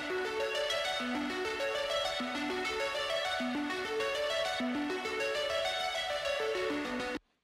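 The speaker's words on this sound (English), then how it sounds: "we've got this synth arp loop from the pack, so that's another Serum one" Serum synth arpeggio loop from a sample pack, a bright, busy stepping pattern repeating steadily and loudly for about seven seconds before cutting off abruptly, with no talking.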